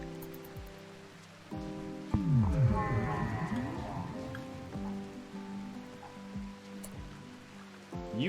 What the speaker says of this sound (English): Iscandia, thanks for the rain